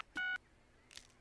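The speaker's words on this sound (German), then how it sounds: "Gib deine Nummer ein." Phone keypad tone from the game Lego City Undercover, a single clear electronic dial beep as a number is entered, followed by faint soft noise.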